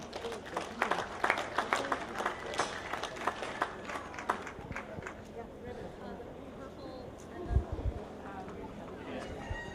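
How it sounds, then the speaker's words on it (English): Crowd applause at a 4-H/FFA swine show in an arena, brisk clapping for several seconds that thins out into background chatter and murmuring voices, with a dull thump near the end. "So let's give these individuals a round of applause."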